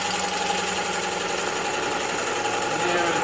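A bowl gouge clears wood from a cracked piece spinning on a lathe, giving a continuous buzzing, whirring cut with a steady scraping texture that holds evenly throughout.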